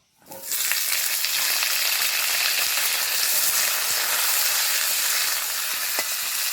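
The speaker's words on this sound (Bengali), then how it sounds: "আলু আর উচ্ছেটাকে ভেজে নেব" Potato and bitter gourd pieces hit hot mustard oil with a sudden loud burst, then fry in a strong, steady, close sizzle that continues without pause.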